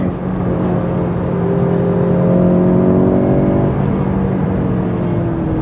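A VW Golf GTI Clubsport S, the front-wheel-drive car that set a Nordschleife record, pulls hard on track, its engine note climbing steadily through the gears in a loud, close, continuous roar with no talking.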